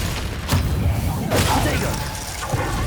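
Icy shattering bursts from a Glacius freezing spell in Hogwarts Legacy crack out in a few loud bangs amid a spell-heavy duel, with a voice heard alongside.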